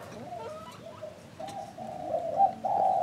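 A spotted dove decoy bird coos repeatedly in a field setting, its low hooting calls growing louder and nearer toward the end, with soft background noise and no talk.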